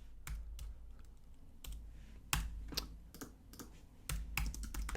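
Quick, uneven bursts of keystrokes on a computer keyboard, close and quiet, with short pauses between clusters of taps.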